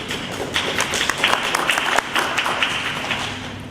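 An audience claps steadily and continuously at a village government presentation in Oak Park. The applause is a dense, even patter of many hands that lasts the whole stretch without a break.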